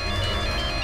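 A mobile phone ringtone plays on and on in a tense domestic scene, a steady electronic tone with layered harmonics that fills the whole moment at moderate level, with no talk over it.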